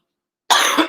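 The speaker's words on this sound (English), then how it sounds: "I gotta cough some more." After half a second of silence, one person gives a harsh, close cough while choking on a melted chocolate chip, followed by the start of a second cough.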